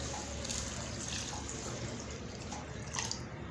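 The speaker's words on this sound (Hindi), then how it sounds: "और यहाँ इसको मैं पानी डालूंगा इसके अंदर।" Water poured into a pot of three cups of basmati rice for rinsing, a steady close splashing and trickling wash that runs evenly for a few seconds with no talk.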